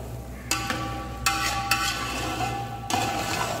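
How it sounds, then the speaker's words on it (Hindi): A spoon stirring tahari rice with coarsely chopped coriander in a pot, several distinct scraping strokes and knocks against the metal spaced through the clip, close and clear over a low steady hum. "अब इसको एक बार मिक्स कर देंगे"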